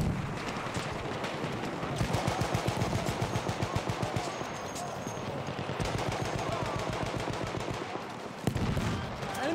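An enemy machine gun fires in Battlefield 1, loud and close, in long rapid bursts of evenly spaced shots that continue almost without a break.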